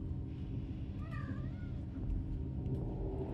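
A cat meows in the Little Nightmares video game, a short rising-and-falling mew over a steady low rumble of game ambience, fairly faint and with no talk.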